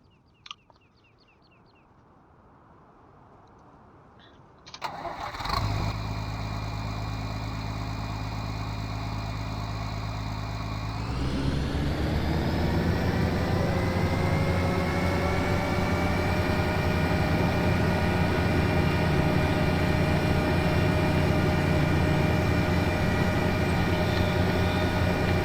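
A 1455 tractor engine in the Farming Simulator 17 game: quiet at first, then it cranks and starts after a few seconds, idles with a steady low rumble, and rises to a louder, constant higher-revving drone about halfway through.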